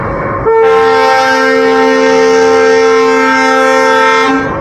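A train sounds a long, very loud, steady horn blast at the Kuti Pachuria railway station. The blast starts sharply after a brief rumble and holds for about four seconds before cutting off, with no talking.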